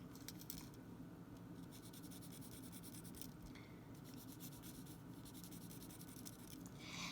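Pen scratching on paper while circles are drawn to illustrate fractions, a faint continuous rubbing with brief pauses, close and quiet, with no voices.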